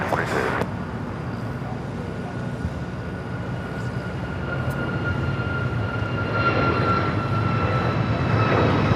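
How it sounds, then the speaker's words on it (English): An Alaska Airlines Boeing 737 MAX 9 takes off at LAX bound for Seattle, a sustained jet engine roar that swells gradually louder toward the end, with a voice speaking over it. "This is Alaska Airlines 1083 taking off to Seattle on the MAX 9."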